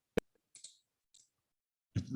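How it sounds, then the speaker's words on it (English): A computer mouse gives a sharp single click, then faint scattered clicks, in a quiet room while setting up a construction plane project; a voice begins speaking at the end. "So what I'm doing is I'm triple clicking."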